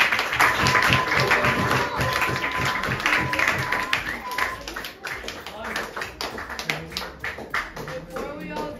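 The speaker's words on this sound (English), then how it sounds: "A round of applause, please." Applause from a school audience at a STEM Day outreach event, a dense run of many hands clapping that starts loud and gradually thins into scattered claps, with some voices mixed in.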